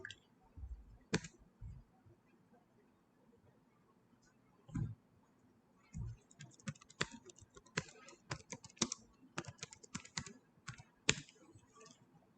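Keys tapped on a computer keyboard while typing commands into a command prompt: scattered clicks at first, then a quicker run of close, crisp keystrokes, with a few low thumps and a bit of faint talk in the background.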